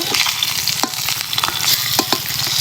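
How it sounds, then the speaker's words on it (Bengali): Eggs fry in a pan over a clay stove with a close, steady crackling sizzle, broken by several sharp spatters and stirring scrapes. "আমি একটা পাত্রে উঠিয়ে নেব ডিমগুলো। এটা প্রায় ভাজা শেষ।"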